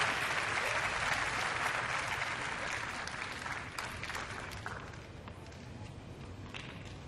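Sustained, loud applause from a tennis crowd at court 17 fills the whole stretch and tapers slightly toward the end, with no speech over it.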